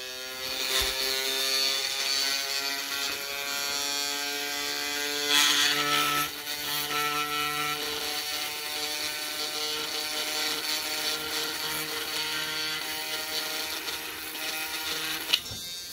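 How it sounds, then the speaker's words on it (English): A gyroscope rotor spins up on battery power as part of a solids-and-energy science demonstration, giving a steady mechanical whir with many sustained tones for the whole stretch, fairly loud and alone, with a brief click near the end. "I'm charging up that rotor with the battery energy."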